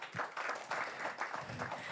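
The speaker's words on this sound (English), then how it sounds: "Another round of applause," Audience applause at a cup launch event, steady dense clapping from a crowd lasting the whole two seconds at moderate level.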